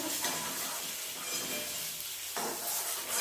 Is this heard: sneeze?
no